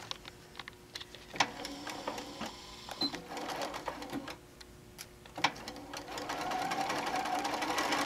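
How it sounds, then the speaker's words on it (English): Sewing machine stitching straight down a pocket hem with white thread, quiet intermittent whirring with ticking clicks, ending in a louder steady run. "we're just going to sew straight on down"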